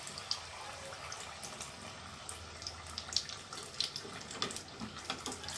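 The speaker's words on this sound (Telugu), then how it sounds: "రెండు వైపులా కలుపుతూ లో ఫ్లేమ్లో వేయించుకోవాలి." Coconut chocolate samosas frying on a low flame, a soft, steady hiss and crackle of oil with small pops scattered throughout, quiet and close.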